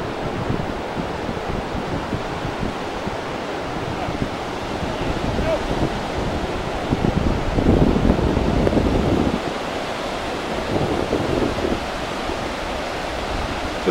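Waves wash in at Downhill Beach, County Londonderry, under steady gusting wind buffeting the microphone, a broad continuous roar that swells briefly louder midway, with no talking.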